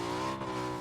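A car engine in a video game drones steadily and fairly loud as the vehicle approaches, with a sustained rising hum throughout and no talk.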